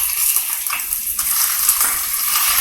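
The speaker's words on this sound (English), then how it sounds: "Hear that sizzle." Chicken pieces sizzling in hot oil in a pan, a dense, steady crackling hiss with scattered pops, close and loud, with no talk over it.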